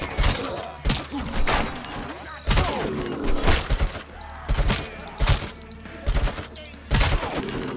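Repeated gunfire from a weapon in the video game RoboCop: Rogue City, with sharp loud shots in bursts and rapid volleys, echoing thuds and clatter, dense and close throughout.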